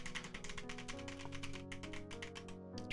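Rapid, dense key presses on a Mars Gaming MK80 gaming keyboard, a steady flurry of sharp clicks close up, running without pause and with no voices.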